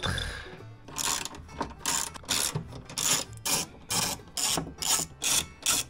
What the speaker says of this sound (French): on peut enlever le mécanisme de fenêtre avec le 10 mm